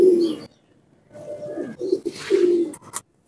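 A pair of surkha pigeons with antique-colored plumage coo close by in several deep, throaty bursts, separated by brief pauses, with no talking.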